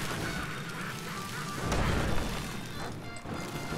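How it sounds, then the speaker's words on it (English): Duck quacking in the video game Magicka 2, mixed into dense game noise with crashing and bursting effects and a louder swell partway through. "There's a duck there."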